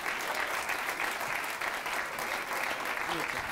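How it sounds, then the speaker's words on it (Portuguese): Audience applause for comedian Ruben Branco at a stand-up comedy special, steady dense clapping sustained throughout, loud and close, with faint crowd murmur underneath. "Recebam com um enorme aplauso Ruben Branco"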